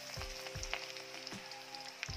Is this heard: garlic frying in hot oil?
yes